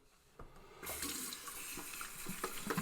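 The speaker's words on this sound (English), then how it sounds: "Wash that off my hands there." Running water from a sink tap after building a shaving-soap lather, starting with a soft knock and then a steady near splashing flow as hands are rinsed, no talk.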